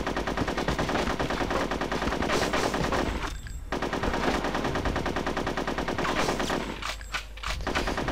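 Sustained automatic gunfire from the video game Conker's Bad Fur Day, loud and dense rapid bursts running nearly continuously, with two short pauses before the firing resumes; no talking.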